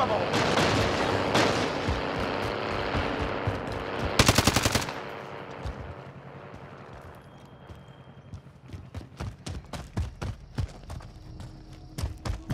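Video game firefight with a rapid machine-gun burst mid-way, then scattered sharp gunshots cracking in uneven volleys over a busy battle din.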